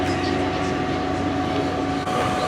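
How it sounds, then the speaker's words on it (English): The inside of an airport train in Toronto gives a steady, loud rumble with a low mechanical hum and tonal whine, continuous throughout with a brief dip near the end and no talking. "I am now on the train from the airport"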